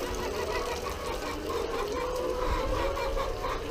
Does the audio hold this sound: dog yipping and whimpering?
no